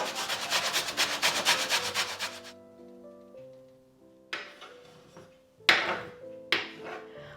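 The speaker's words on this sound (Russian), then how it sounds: "Морковь натираю на средней терке." A single carrot rubbed against a medium grater in a home kitchen, giving quick rhythmic rasping strokes for a couple of seconds, then quieter scraping and a few sharper knocks, close and alone.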